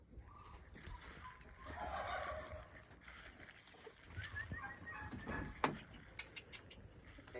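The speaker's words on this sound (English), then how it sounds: "These right here, these are my chicklets." Week-old chicks peep and patter softly inside a small farm coop, their faint high cheeps scattered over a quiet background with a few brief scuffling knocks.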